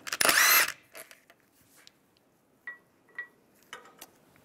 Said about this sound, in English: Take that one off with a 17 millimeter socket.